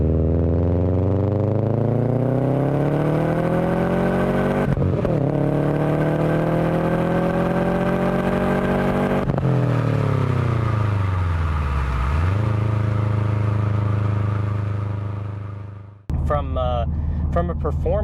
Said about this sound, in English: can really hear that thing light up really, really nicely for just a stock replacement exhaust system